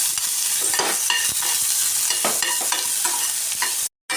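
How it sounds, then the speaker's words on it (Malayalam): Mustard seeds and small onions sizzle in hot oil while tempering for egg chammanthi, a steady crackling hiss with scattered pops and stirring scrapes, loud and close throughout before a brief cut near the end. "കടുക് പൊട്ടുമ്പോൾ നമ്മൾ എല്ലാത്തിനും കടുക് താളിക്കുന്നത് പോലെ തന്നെ ചെറിയ ഉള്ളി"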